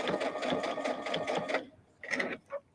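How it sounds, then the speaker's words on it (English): A sewing machine stitches quilt pieces for a circles and squares mock cathedral quilt, running in a steady close mechanical rhythm for about a second and a half, then stopping before two short bursts. "then I'm going to sew."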